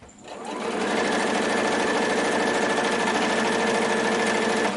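A sewing machine running a very narrow stitch through fabric scraps, starting up quickly and then holding a loud, steady, rapid mechanical chatter close by for several seconds.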